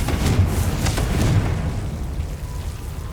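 A Confringo fire spell explodes in Hogwarts Legacy, a deep booming burst with rumbling low-end that swells early and then fades into a lingering roar.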